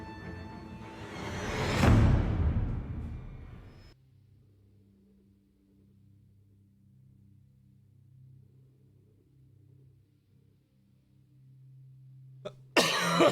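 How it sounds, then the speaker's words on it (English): A single loud, close cough, followed by a long quiet stretch of low hum and a brief noise at the end. "Sorry for that cough."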